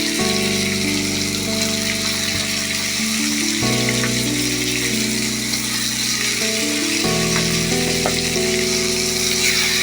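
Chicken curry bubbles and sizzles in a pot on the stove, a loud, steady, close crackling hiss that continues throughout without talking.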